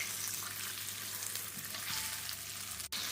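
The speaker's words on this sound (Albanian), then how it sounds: "Përziejmë tani derisa gjalpi të shkrihet tërësisht tek sheqeri i djegur." Butter melts into caramelized burnt sugar in a pan, giving a steady, close sizzle and frying hiss with light stirring, plus a brief sharp knock near the end.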